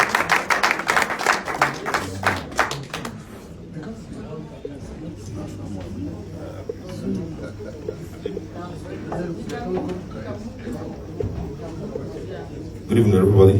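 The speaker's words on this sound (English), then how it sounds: "please give a round of applause to this gentleman par excellence, Dr. Uche Nworah" Applause at an evening public relations lecture greets guest speaker Dr. Uche Nworah, with a dense burst of clapping at the start that fades into room murmur, then rises briefly again at the very end.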